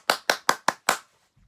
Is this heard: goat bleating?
no